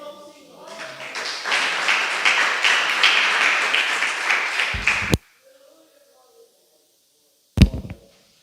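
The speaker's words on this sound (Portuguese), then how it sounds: "E as palmas louvam o Senhor" A congregation at a church service breaks into loud applause that builds and holds for about four seconds, then cuts off sharply into near silence, followed by a brief thump.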